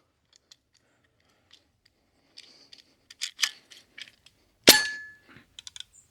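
Bin Tac S45 semi-auto carbon air rifle being cocked: a series of small mechanical clicks and rattles builds to one sharp metallic clack with a brief ring, near and alone in otherwise quiet surroundings.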